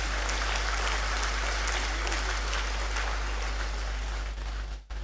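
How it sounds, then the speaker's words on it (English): An audience claps steadily for the school during a university congregation ceremony, a broad, continuous round of applause with a low constant hum underneath, fading and cutting off abruptly near the end. "I thought we would give the school a round of applause."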